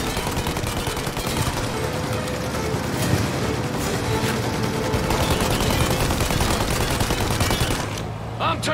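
Gunfire from the video game Mafia Definitive Edition during a chase after a plane, a dense continuous clatter of shots and engine rumble filling the scene, loud throughout before dropping off near the end.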